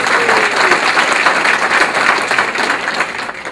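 A town hall meeting audience breaks into hearty applause for a man standing up, a close, full burst of clapping that holds steady and then begins to taper off.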